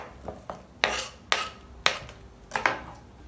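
Banana peel, lemon pieces and ginger drop into a cooking pot one after another, making about six sharp clatters and knocks against the pot, close and distinct with no talk.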